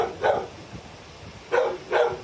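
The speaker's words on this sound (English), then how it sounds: "we found a dog in an outside kennel, but not the Great Dane" A dog barks from an outdoor kennel at a town dog pound, giving three short, fairly distant barks with pauses between them and no voices over them.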